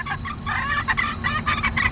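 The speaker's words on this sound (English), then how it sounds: "So I got a rooster and 3 hens." A backyard flock of chickens, one rooster and three hens, clucking and squawking continuously at close range with no talking over them.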